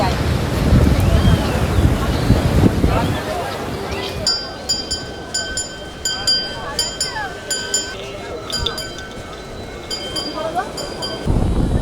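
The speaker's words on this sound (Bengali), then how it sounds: "এই মুহূর্তে খালি ঢেউটা দিচ্ছে দেখো, দুর্দান্ত লাগছে।" Sea waves wash onto Digha beach under strong wind buffeting the microphone, first as a loud roar and then as softer rhythmic surges, while a voice talks and high electronic beeps chirp partway through.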